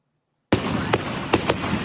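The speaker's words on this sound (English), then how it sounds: "It's a home fireworks display that draws hundreds to this Port Jefferson neighborhood each year." A big home fireworks display in a Port Jefferson neighborhood: loud booming bursts erupt suddenly after a moment of silence, followed by a dense crackle with several sharp pops.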